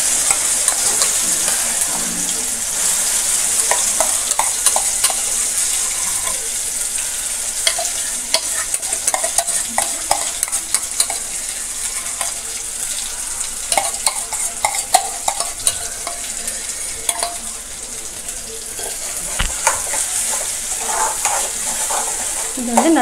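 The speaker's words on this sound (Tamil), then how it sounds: "இது வந்து நல்லா அந்த எண்ணெயிலே நல்லா வதங்கணும்" A ground spice paste fries in hot oil for a coconut-free, onion- and tomato-free kuzhambu, giving a steady bright sizzle throughout with frequent close scrapes and clicks of a spoon stirring against the pan, no voices.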